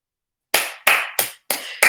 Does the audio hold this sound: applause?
yes